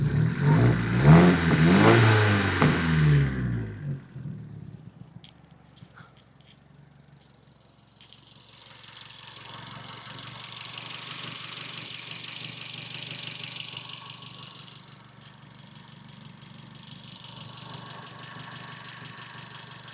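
A car's engine revs loudly with a rough, knocking note for a few seconds, then drops to a low, steady idle that continues faintly to the end.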